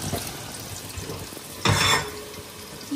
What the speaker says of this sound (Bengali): আজকে ডালটাকে একটুখানি ঘিতে তারপরে আমি ভাজবো